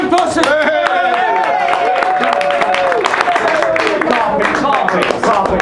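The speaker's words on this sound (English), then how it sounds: "Big round of applause!" Audience at a stand-up comedy show at Dirty Dicks breaks into loud, sustained applause and cheering, with overlapping shouts and voices from the crowd throughout.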